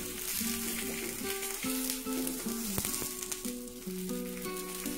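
Hash browns seasoned with Old Bay sizzle steadily in a hot pan, a continuous close crackling fry with faint tonal hum underneath and no one talking.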